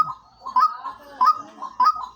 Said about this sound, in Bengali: পাশে আরেকটা ডাকতেছে